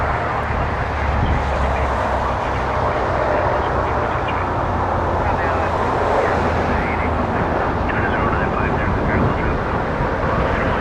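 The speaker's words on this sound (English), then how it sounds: "This is an A220-300 from Calgary." An Airbus A220-300 from Calgary at Toronto Pearson, a loud continuous jet engine roar and rumble held steady throughout, with a voice talking over it.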